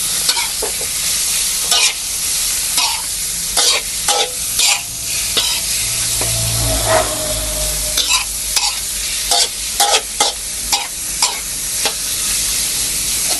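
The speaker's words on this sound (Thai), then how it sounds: "เป็นหมูสามชั้นที่เราได้หั่นไว้นี่เนี่ยเอาลงไปผัด" Pork belly stir-fried with herbs in a hot pan sizzles steadily and loudly, broken by frequent sharp scrapes and clacks of a spatula tossing the meat, with no voices.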